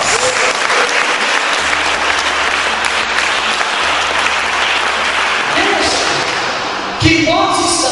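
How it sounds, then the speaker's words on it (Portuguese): Church congregation applauding together during a worship service, dense steady clapping filling the space with a voice over a sound system speaking above it, and a sharper burst of sound near the end. "Vamos aplaudir o nosso Pai."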